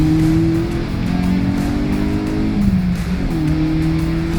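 A swapped Citroën C2 competition car drives a race circuit, its engine droning loud and steady with pitch rising through the gears, dipping at a shift midway, then climbing again, with no voices over it.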